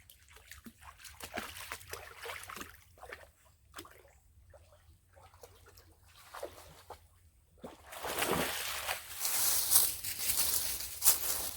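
Water sloshing and splashing as two dogs move through a shallow creek, with scattered trickles early and louder churning splashes later, fairly close.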